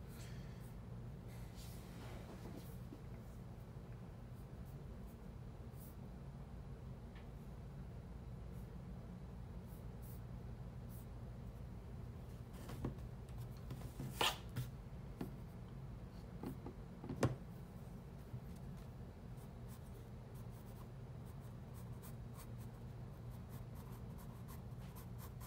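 Pencil scratching short strokes of grass blades onto paper, soft and steady with occasional sharper flicks, faint and close.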